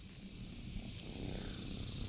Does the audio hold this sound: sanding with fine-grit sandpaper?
no